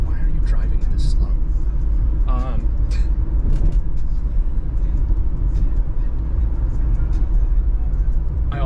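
Car driving slowly in traffic behind a slow-moving BMW, with a steady low engine and road rumble filling the cabin throughout while a person talks over it.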